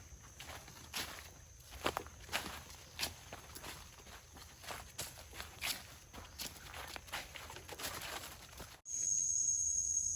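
Footsteps crunch through forest undergrowth during mushroom foraging, a steady irregular series of close crackling steps on leaf litter. A louder steady noise cuts in near the end.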